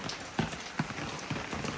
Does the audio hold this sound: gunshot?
no